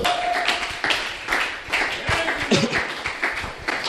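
A church congregation claps and applauds in praise of the Lord during a sermon, with uneven bursts of hand claps mixed with faint voices that rise and fall over a few seconds.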